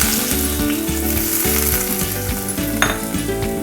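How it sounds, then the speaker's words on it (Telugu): Garlic cloves and onion pieces frying in oil on high flame for potato Manchurian, a loud continuous sizzle close by with a rhythmic mechanical hum underneath and a single clink near the end. "కొంచెం నూనె పెట్టుకొని దాంట్లో వెల్లుల్లి ఒక నాలుగైదు రెబ్బలు దాంట్లోకి ఉల్లిపాయ ముక్కలు"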